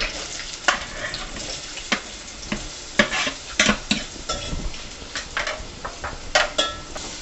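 Onion sizzles and fries in hot oil with bay leaves and cinnamon pieces over a high flame, with a steady frying hiss punctuated by repeated sharp scrapes and clanks of a spoon stirring in the pan, no talking.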